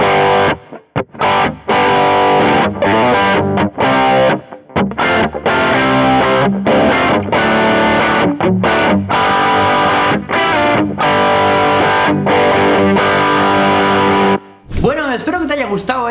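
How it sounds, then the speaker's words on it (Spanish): A distorted electric guitar in open G tuning plays a riff, loud, choppy chords with rhythmic stops between strums, alone without talk. "un tema muy interesante en la afinación abierto en sol, que suena tal que así"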